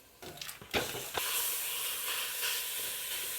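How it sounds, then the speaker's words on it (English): Minced meat hits hot olive oil in a stovetop pan with onions and garlic, bursting into a loud, steady sizzle after a few brief clatters and thuds at the start, continuing unbroken with no talking. "Next up, we're going to add in our mince."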